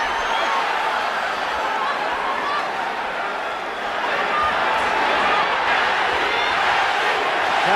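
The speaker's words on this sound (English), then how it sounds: "Manny, the crowd chants" Boxing arena crowd chanting "Manny" during the Pacquiao vs. Morales fight, a dense, continuous roar of many voices with no distinct words breaking through.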